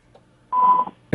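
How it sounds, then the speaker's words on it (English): An electronic beep on a radio call-in phone line: one steady tone lasting about a third of a second, loud and clear against near silence, followed by a brief click. "What's that beeping going on?"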